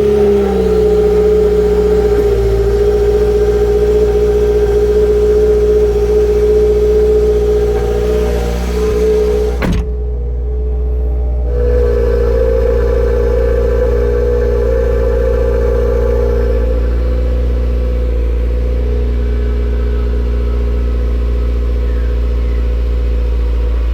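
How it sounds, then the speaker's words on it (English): A 2015 Subaru WRX fitted with an MRT Performance exhaust idles after a cold start, a loud, steady, boomy drone heard from inside the car for the whole stretch, with one brief click partway through. "So that was a cold start, and as you can hear, it is a little bit farty and it is quite boomy inside the car"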